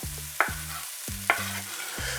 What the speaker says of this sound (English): we're gonna go ahead and let this saute